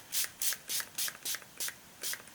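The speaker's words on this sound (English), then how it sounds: "So I'm gonna spray it same way" Fixative spray misted over an oil pastel artwork in short hissing bursts, about eight evenly spaced puffs close to the can, with no talking.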